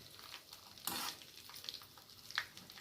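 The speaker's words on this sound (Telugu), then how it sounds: "ఇది పల్లె నూనె కాబట్టి ఇలా నురుగు నురుగు వస్తుంది చూడండి" Groundnut oil foams and sizzles steadily while tempering, with a louder crackling burst near the start and sharp spits of popping now and then.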